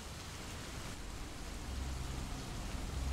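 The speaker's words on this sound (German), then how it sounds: "eine regnerische Nacht." Rain falls steadily on a rainy night, a soft, even hiss close by with no voices.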